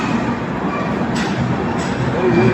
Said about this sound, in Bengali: আমাদের ট্রেন ঢুকলো, এখন জাস্ট ঢুকলো।